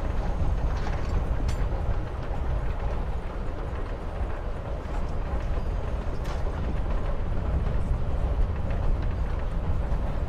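A moving train in the video game Life Is Strange: Before The Storm, a steady low rumble and clatter of rail travel that carries on without a break.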